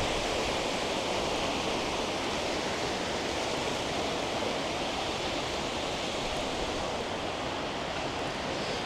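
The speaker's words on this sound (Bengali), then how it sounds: "এই দেখেন সমুদ্রের পানির কি ঢেউ। এখন কিন্তু জোয়ার।" Sea waves at high tide on Inani beach in Cox's Bazar, a steady broad wash of surf rolling continuously and fairly loud, with no voices over it.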